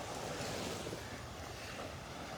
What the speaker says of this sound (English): the little waves here stirring the sand up on the bottom